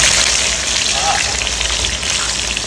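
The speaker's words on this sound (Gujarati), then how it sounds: "અત્યારે આપણી જે ફ્રાય કરેલી ડુંગળી હવે આની અંદર એડ કરવાની છે." Fried onions tipped into a hot oil tempering, giving a dense, close sizzle that stays even and loud throughout the short stretch with no talk.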